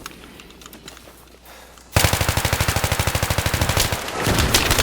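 Automatic gunfire in Battlefield 3: after a short stretch of quieter battle noise, a loud, rapid, steady burst of shots rattles continuously for a couple of seconds and then gives way to heavy, sustained combat noise.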